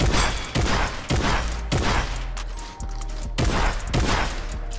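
Shotgun blasts from the combat shotgun in Fortnite Battle Royale, about seven loud booming shots in a steady rhythm with a short gap partway through, with no talking.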